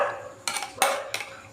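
A spoon stirs pumpkin curry sprinkled with asafoetida in a pan, three distinct scraping, clattering strokes against the metal separated by short pauses.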